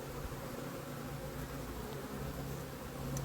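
Honeybees hum in an open hive from a colony heavily infested with Varroa mites, during a transfer from a big hive into a small nuc. The buzzing is a dense, steady drone, close and fairly loud throughout, with no talking.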